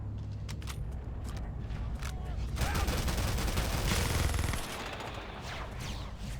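Gunfire in Halo CE running the XAM mod, a dense fusillade of rapid shots over a steady background, growing louder for a stretch in the middle before easing back.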